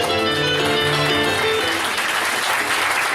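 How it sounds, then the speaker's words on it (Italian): A theatre audience at a live comedy performance applauds with loud, sustained clapping that stays dense and even throughout, with a faint tonal layer fading out early. "Allora, di solito lo faccio alla fine, ma ci facciamo ora l'applauso"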